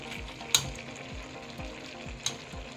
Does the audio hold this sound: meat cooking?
yes